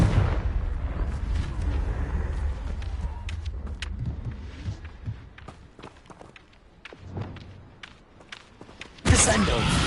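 A Confringo fire spell in the Hogwarts Legacy video game sets off rumbling explosive bursts amid running footsteps and scattered impacts, ending with a sudden loud blast.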